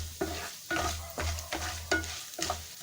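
Mustard seeds frying in oil in a pan for an aloo curry, with a steady crackling sizzle broken by about five stirring scrapes at regular intervals, close and fairly quiet.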